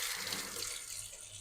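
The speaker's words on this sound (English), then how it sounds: "So before we start, we're going to wash our hands." Water runs steadily from a kitchen tap while hands are washed, making a soft, close, continuous splashing hiss that lasts the whole brief moment.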